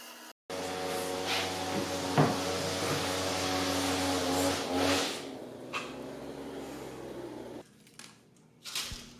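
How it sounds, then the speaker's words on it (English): A power drill whines and revs in sustained bursts, its motor pitch shifting as it bores a hole in PVC pipe, then stops, followed by a few clattering knocks. "I can drill a hole for the PVC."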